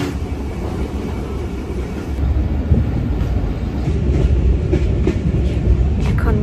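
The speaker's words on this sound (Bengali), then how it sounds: "আপাতত ট্রেন ছেড়ে দিচ্ছে" A passenger train pulls out of a station on a foggy night, a steady, loud rumble of wheels and carriages that thickens after a couple of seconds and keeps rolling with faint clatter, with no voices.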